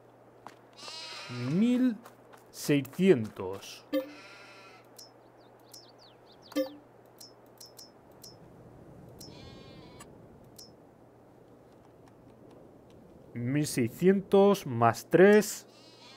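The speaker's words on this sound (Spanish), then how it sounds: "Ya estoy aquí liado mirando las ovejas." Sheep bleat in Farming Simulator 22, several loud close calls in a cluster near the start and another burst at the end, separated by quiet stretches broken by brief faint bleats, with someone speaking Spanish in between.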